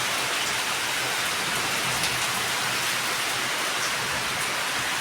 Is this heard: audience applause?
no